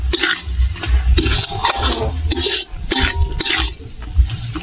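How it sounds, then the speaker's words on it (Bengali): Chutney sweetened with sugar is stirred in a pan, a steady scraping of spoon against metal with light sizzling and clinks, close and continuous with no talk. "এবার নেড়ে চেড়ে নেব।"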